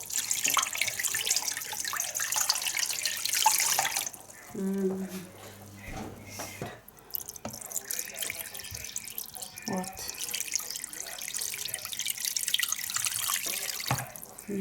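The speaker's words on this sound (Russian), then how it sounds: "Наливаем воду." Tap water pours steadily into a three-litre cooking pot, a continuous hissing splash that pauses briefly midway and then resumes, with a short spoken word and small kitchen clatter over it.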